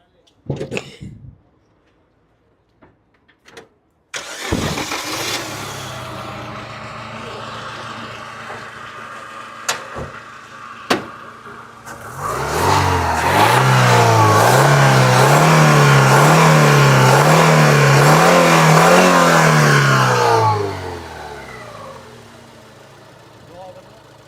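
A Chevrolet Cobalt engine starts after some clicks and idles, then is revved repeatedly in rising and falling surges for several seconds before dropping back to idle.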